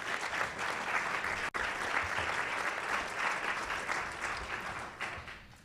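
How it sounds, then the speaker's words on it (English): Sustained applause from the audience at a National Press Club luncheon, a dense steady wash of many hands clapping that holds throughout with no talk over it. "Please give them a round of applause"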